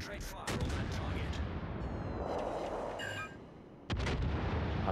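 Naval artillery in a warship video game booms in several heavy, close shots, with a rumbling stretch between blasts and a short lull before the final loud shot, while a player talks.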